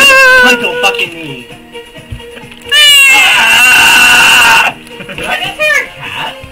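A cat meows in a noisy room, with several drawn-out, wavering cries, one loud and sustained, set among overlapping voices and chatter.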